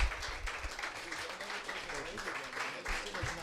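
A comedy-festival audience applauds its host with steady, dense clapping that runs the whole moment at fairly even loudness, with a little voice mixed into the crowd noise.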